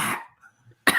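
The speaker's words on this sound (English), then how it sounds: "was that a cough or was that a sneeze?" A single sharp cough or sneeze bursts out near and loud, followed by a short quiet gap and then a second strong burst, with no talk over either.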